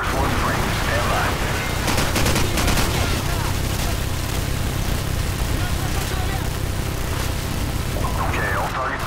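Heavy automatic gunfire in Call of Duty 4: Modern Warfare, loud and continuous, with dense overlapping bursts of shots and battle noise throughout and radio chatter mixed in.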